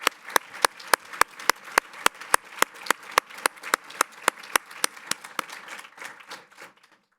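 Applause at a school district Teacher of the Year awards ceremony comes as about twenty sharp, close claps in an even rhythm, trailing off and fading at the end.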